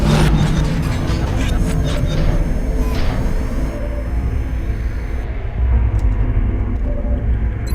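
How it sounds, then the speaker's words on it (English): A cyberdisk from the XCOM Enemy Within video game, heard as a steady, loud mechanical rumble and drone with scattered metallic clanks, continuous throughout with no voices. "There's the other cyber disk we've been hearing."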